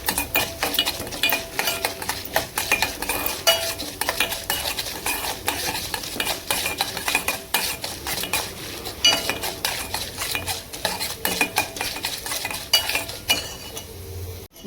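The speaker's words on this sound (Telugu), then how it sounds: "చూడండి పోపు వేసేసుకుందాం" Tempering spices (popu) frying in a pan, with continuous close sizzling and rapid, busy metal scraping and stirring throughout, no talk.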